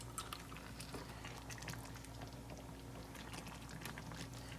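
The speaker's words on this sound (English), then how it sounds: "you're just going to keep stirring it because you don't want it to stick together" Food being stirred in a single pot of simmering liquid as it soaks up the broth, a steady bubbling wash with scattered scraping and clinking from the utensil throughout, no voices.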